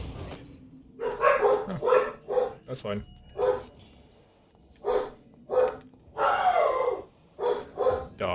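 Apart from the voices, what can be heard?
dogs barking in the background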